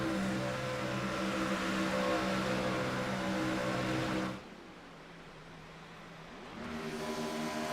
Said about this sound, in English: It's almost like listening to a hybrid car just coast on by the freeway